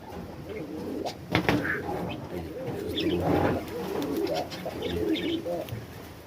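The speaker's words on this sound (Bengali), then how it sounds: "সুস্থ কবুতর" Pigeons in a fancy-pigeon sale setting coo softly and repeatedly up close, with faint background talk and a brief knock near the start.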